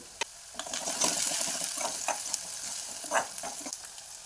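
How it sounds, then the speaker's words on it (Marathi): Chopped onions sizzle in hot oil in a pan while a spoon stirs them for pav bhaji, steady frying hiss broken by scraping knocks of the spoon, close and clear with no talking. "कांद्याचा कलर बदलूपर्यंत छान परतून द्यायचा आणि असं हलवत राहायचं."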